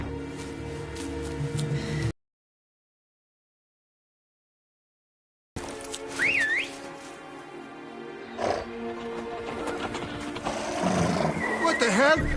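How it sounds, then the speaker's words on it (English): Horses neigh in The Witcher 3, a whinny with a rising-falling tone breaking out after a stretch of silence, set among busy game ambience and other in-game sounds. "Ready our horses!"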